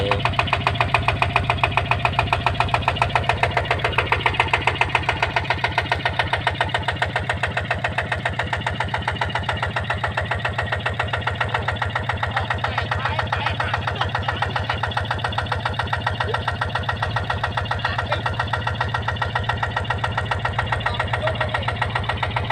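A rice threshing machine engine runs steadily for the whole stretch, a loud, rough, chugging drone with a constant rhythmic knock close by.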